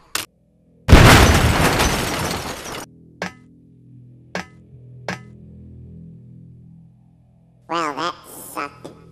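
Firecrackers explode inside a 1957 Chevy Impala: a loud burst of crackling explosions lasting a couple of seconds, followed by a few sharp isolated pops and short clattering noises afterward.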